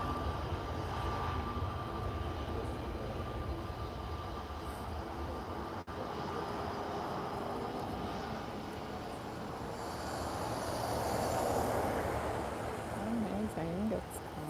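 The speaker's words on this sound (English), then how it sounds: "Oh no, it's not a Neo maybe, but it's an A330." An Airbus A330 airliner at Lisbon Airport gives off a faint, distant, steady jet engine roar that swells slightly toward the end, heard without anyone talking.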